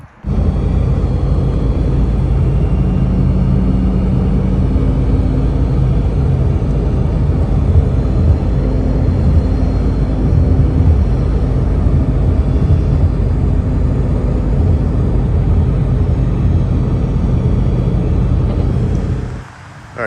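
A 2023 BMW S1000RR motorcycle being ridden, its engine a loud, steady rumbling drone with heavy wind roar that holds constant for about twenty seconds before dropping off at the end.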